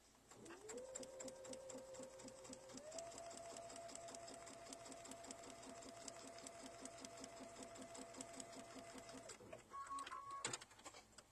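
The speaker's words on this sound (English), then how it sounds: "and now I'm going to stitch across the line" A domestic sewing machine stitches across a line on quilt blocks, its close, steady motor whir running for about nine seconds with a brief speed change early on before stopping.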